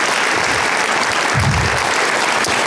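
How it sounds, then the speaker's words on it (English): Applause from an evening audience greeting a retired high school head coach and athletic director as he is introduced as a judge, a steady wash of clapping that swells briefly midway. "Round of applause."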